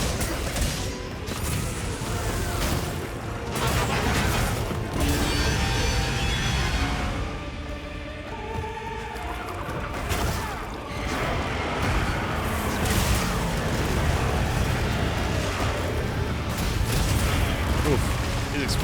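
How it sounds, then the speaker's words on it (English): Explosions in the Monster Hunter Wilds video game during a boss fight, a dense run of loud booming blasts and crashes repeating across the scene over a busy game soundscape. "Oof, these explosions."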